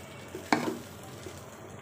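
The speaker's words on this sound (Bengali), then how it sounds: "এবার সব কিছু খুব ভালো করে যে নেড়ে চেড়ে এটাকে জাল করে নিচ্ছে।" Khichuri with beef stirred in a pan: a few separate scraping, clattering strokes of a spoon against the pan over a faint low sizzle, with pauses between strokes.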